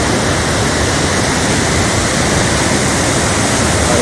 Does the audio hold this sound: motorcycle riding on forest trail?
no